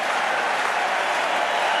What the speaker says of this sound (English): big round of applause for a genuine crowd pleaser